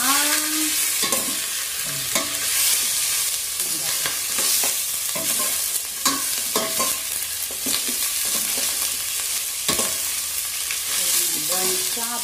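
Pork browns in a frying pan for coconut squash, a steady bright sizzle running throughout with repeated scraping and stirring strokes of a utensil against the pan, close and fairly loud.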